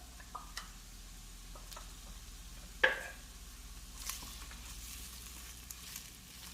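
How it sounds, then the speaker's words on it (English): Onion and carrot fry gently in olive oil inside a Dutch oven, producing a soft, continuous sizzle broken by scattered small ticks and one sharper clatter near the middle, with no voices. "let's add our onion and carrot to our Dutch oven"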